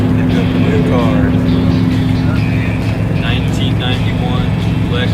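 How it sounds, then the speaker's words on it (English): A 1991 Lexus LS400 drives along a hilly unpaved road, its steady engine drone and road rumble heard from inside the car, with people talking over it throughout. "1991 Lexus LS400."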